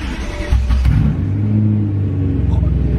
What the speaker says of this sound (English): The first cold start. Here we go. The loudest exhaust setup possible for the M3